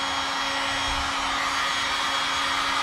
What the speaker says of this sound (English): So a hot air dryer would be perfect.